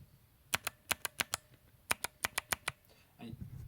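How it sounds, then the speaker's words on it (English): Sharp clicky mechanical keyboard switches being typed on, two quick bursts of crisp, loud, evenly spaced clicks, about six keystrokes each, close by, with a short pause between and a faint rustle at the end. "the clicky switches have this distinct click bar sound"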